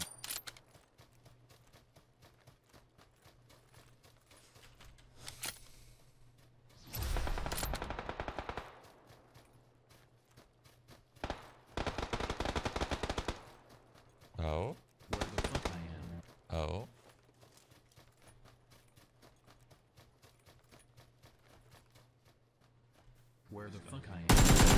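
PUBG gunfire erupts in several bursts of rapid automatic fire, loud and close, separated by quieter stretches with a low steady hum and a final loud burst at the end; no voice accompanies it.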